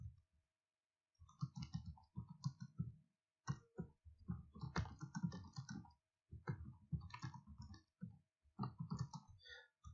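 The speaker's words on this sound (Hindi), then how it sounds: "अब मैं जब यहां पे टाइप करूंगा" Rapid bursts of keystrokes on a computer keyboard while working in Microsoft Excel, clattering clicks in uneven runs separated by short pauses, close and fairly quiet.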